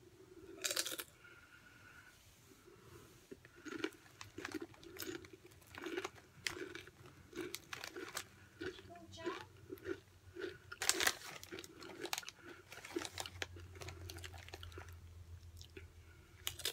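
Doritos Poppin' Jalapeño tortilla chips are crunched and chewed close to the mic, with a string of crisp, irregular bites and crackles over a quiet room.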